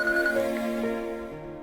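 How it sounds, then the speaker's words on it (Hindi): A mobile phone ringtone plays a steady, sustained electronic melody with layered tones for just under two seconds in a dubbed South Indian action film scene, heard alone without talk. "ऐश्वर्या का फोन है।"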